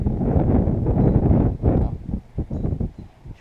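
Gusty wind buffeting a microphone on a windy, cloudy day out kayaking for bass and pike, a loud rough rumble that surges and then drops into uneven puffs.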